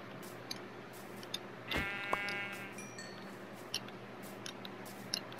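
A single sheep bleats once in the video game Minecraft, a short wavering cry midway, over a quiet background with faint clicks and ticks, no speech.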